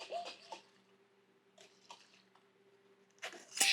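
A closed container of seeds and water is shaken by hand while making plant-based milk, giving three short, wet sloshing bursts separated by quiet pauses.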